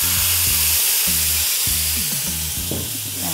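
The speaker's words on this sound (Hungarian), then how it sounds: "A gríz már megpirult, és akkor most ráöntjük a vizet." Water poured onto toasted semolina in a hot pan, producing a loud burst of steam and hissing sizzle that stays intense and continuous, with low tonal hum beneath; no talking.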